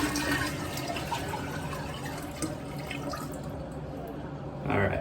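Water left in a toilet tank is poured into the toilet bowl, giving a steady splashing and gurgling pour that continues throughout and swells briefly at the end, close and fairly loud.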